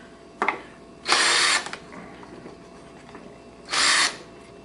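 A power drill drives a deck screw in two short, loud whirring bursts separated by a pause, with a faint brief buzz and clicks before the first burst.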